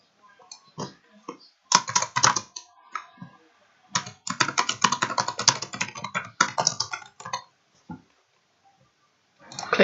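Someone types a block name on a computer keyboard in bursts of quick, close key clicks, with a few pauses between the flurries and no voice.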